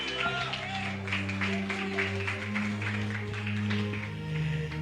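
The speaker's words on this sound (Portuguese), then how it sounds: "aplaudindo." A church congregation applauds during a worship service, a steady patter of many hands spread across the room beneath sustained keyboard chords.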